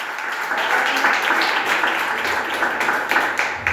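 A church congregation claps joyfully, a dense, lively burst of many hands applauding together at close range, sustained throughout with no other sound rising above it.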